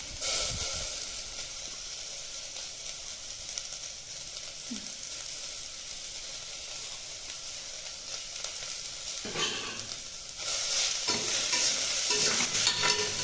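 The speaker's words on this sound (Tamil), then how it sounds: "புதினா கொத்தமல்லி ஆட் பண்ணதுக்கப்புறம் நல்லா சாட்டே பண்ணணும்" Mint and coriander leaves sauté for biryani, a steady close sizzle and frying hiss with stirring scrapes, growing a little louder near the end, no voices.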